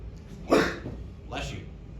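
A single sneeze bursts out in a classroom, sharp and close, followed by a softer trailing breath.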